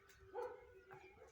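Dogs barking at a house in Brazil, giving one short muffled bark and then a fainter second one, somewhat distant and quiet over low background noise.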